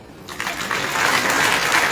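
An audience claps on request at a religious discourse gathering, a broad, dense wash of applause that swells quickly and holds steady and fairly loud, with no voice over it.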